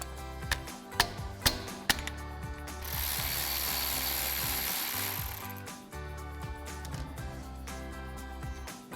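A ratchet works loose the lower mounting bolt on a Jeep Wrangler JK front brake caliper: several sharp clicks, then a sustained whirring spin, then more rapid clicking, all close and clear.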